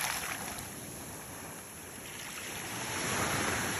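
Strong sea waves wash in at Luzoy Beach Resort in Bauan, Batangas, making a continuous broad rushing roar that swells slightly toward the end, mixed with wind buffeting the microphone.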